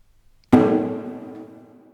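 One drum hit rings out clearly, its full resonant body decaying gradually after the sharp initial strike, with near silence before it.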